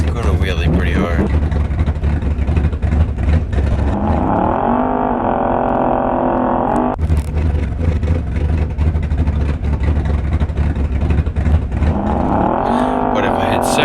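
A drag car launches in the Door Slammers 2 racing game, its engine snarling loud and revving up in rising sweeps that drop back and climb again.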